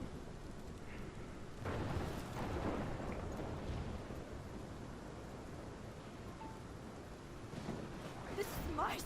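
A thunderstorm rages in the video game Life is Strange, with dense rushing rain and deep rumbling thunder swelling and fading in waves, loud and continuous throughout.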